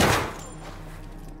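A flashbang grenade goes off in the tactical shooter Ready or Not as a single loud burst that fades into a lingering ringing wash, with no talking.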